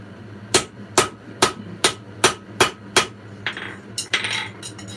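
A hammer strikes hot metal on an anvil while forging a bottle opener, eight or so sharp, ringing blows in an even rhythm, close and loud, followed by a few scraping, rattling knocks.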